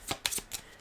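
A deck of Aeon's End War Eternal board-game cards is shuffled by hand nearby, making three or four quick papery riffling bursts in under a second, with no voices.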